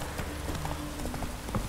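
A horse gallops in the fantasy role-playing game The Witcher 3: Wild Hunt, a steady run of quick hoofbeats at moderate volume through the short stretch, with no talking.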